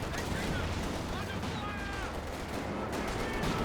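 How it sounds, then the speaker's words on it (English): Heavy gunfire from an AVRE tank in a Company of Heroes 2 battle rumbles continuously amid dense combat noise, with a voice commentating over the din throughout. "AVRE's firing."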